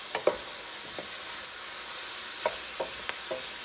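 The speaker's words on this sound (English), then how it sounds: "I believe this has sauteed enough." A seafood stew with cut-up whiting sautés in a pan, giving a constant hissing sizzle broken by scattered soft clicks of stirring.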